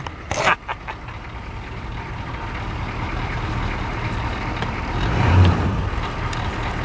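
A K5 truck engine cranks after a starter switch repair: a short, sharp burst of cranking, then a steady, close idling rumble that swells briefly near the end.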